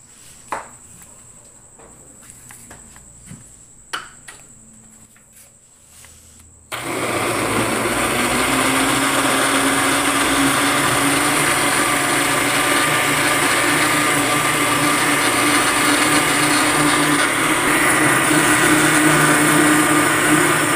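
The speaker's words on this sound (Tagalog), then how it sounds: "lagyan natin siya dito sa ating blender." Electric blender whirring through leftover bread with Milo and water, starting abruptly after a few quiet seconds of faint handling clicks, then a loud, steady high-pitched motor roar that runs continuously to the end.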